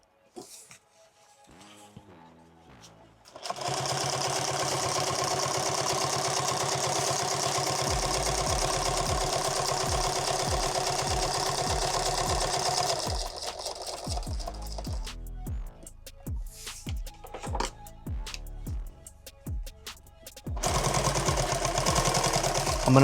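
A sewing machine stitches a leather pistol magazine pouch, running in fast bursts of rapid needle strokes. It stops between bursts, with one long steady run in the middle, loud and near.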